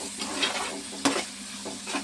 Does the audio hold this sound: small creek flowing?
no